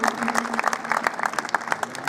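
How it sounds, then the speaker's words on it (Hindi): Audience applause at a cultural variety program, a short burst of dense, loud clapping from a crowd, heard on its own. "इसलिए जोरदार ताली बजाओ उनके लिए भी।"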